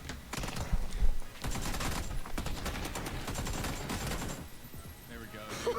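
Dense, rapid gunfire crackles in a GTA Online fight, a steady fusillade kept at a moderate level with a voice talking over it.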